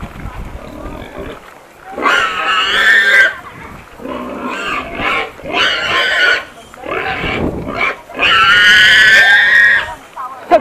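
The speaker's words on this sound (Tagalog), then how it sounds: "Gagalit yung baboy." An angry pig grunts and squeals in loud bursts separated by short pauses, close by, with a few quieter grunts in between.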